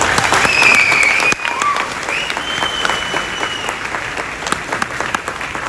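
Loud, sustained applause from an audience cheering for scientists at a public event, a dense and steady roar of clapping throughout, with a faint whistle rising over it near the start.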